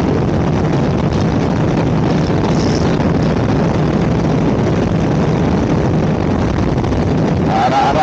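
A Kawasaki 1000SX motorcycle engine drones steadily throughout while riding, mixed with heavy wind rush, loud and continuous with little variation.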